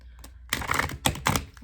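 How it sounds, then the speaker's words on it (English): Tarot cards are shuffled in a few quick, close riffling bursts with short gaps between them, and no talking. "see how the cards shuffled there?"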